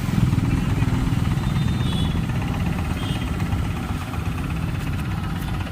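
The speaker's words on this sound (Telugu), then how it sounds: "ఒకసారి ఈ బండి వీడియో చూడండి, ఇంజన్ బీటింగు ఏ విధంగా ఉందో" Engine of a 2018 Tata Magic passenger vehicle running at a steady idle, heard up close as an even low rumble with a constant vibrating beat and no talking.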